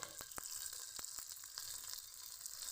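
Chopped carrot, long beans and tomato fry in a pan for vegetable fried rice, giving a steady close sizzle with occasional crackles and light stirring taps, no voices present.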